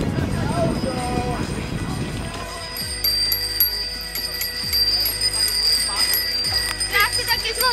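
A bicycle bell rings in three or four sharp, bright dings spaced a couple of seconds apart on a sporty lightweight bike during a group ride, mixed with people chatting and road noise.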